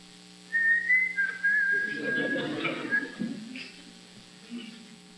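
A person whistles on stage during a theatre production of Play It Again, Sam: a bright, clear whistle rises, holds, then slides along a level tone for about three seconds, up close over a low background murmur.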